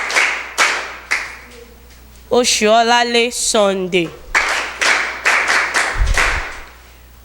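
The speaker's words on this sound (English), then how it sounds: "A round of applause for her" A few sharp claps for quiz participants at a school quiz competition, scattered bursts separated by an announcer's voice naming participants.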